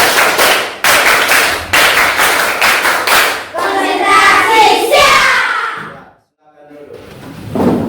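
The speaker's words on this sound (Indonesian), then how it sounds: "Tepuk konsentrasi" A primary school class performs tepuk konsentrasi, a rhythmic concentration clap in sharp unison bursts, followed by a looser scatter of claps, a brief silence, then a final clap burst.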